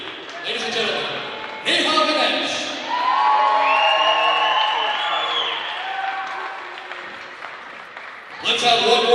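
A crowd at a college women's basketball senior day game applauding and cheering in a gym, a broad sustained wash of noise with a loud voice over it, swelling again near the end.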